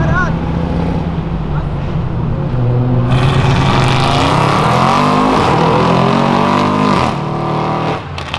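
A Chevette engine revs loudly and continuously as the car struggles to pull away, sliding on spilled oil, pitch climbing and falling, with people talking excitedly over the roar.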